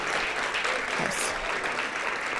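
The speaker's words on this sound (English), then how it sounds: "Give yourselves a round of applause." Dense, loud applause from an audience at a graduate student research forum awards ceremony, continuous and even across the short stretch.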